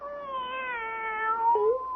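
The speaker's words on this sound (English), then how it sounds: "My very own cat." A cat meows as a radio drama sound effect in a mystery play, one drawn-out, clear tonal meow that bends upward near the end, close and alone with no talk.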